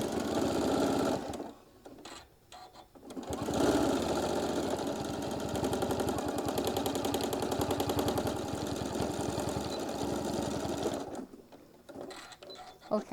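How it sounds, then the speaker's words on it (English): A sewing machine top-stitches through several layers of folded fabric for a mini iron travel case, running in a steady fast mechanical whir for about eight seconds between short pauses at start and end. "So let's go ahead and get this sewed down."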